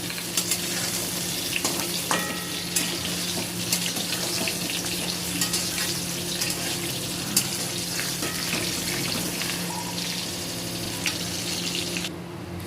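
Potatoes and eggplant fry in hot oil in a home kitchen, giving a steady, dense sizzle that runs unbroken for the whole stretch with a few faint clicks and scrapes mixed in.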